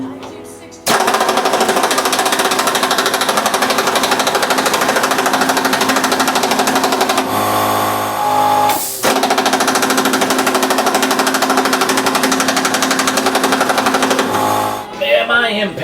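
Impact wrench hammering on the 26mm Pitman arm nut of a Mazda RX3 front suspension, a loud, close, continuous rattling that runs for long stretches with a brief break partway through.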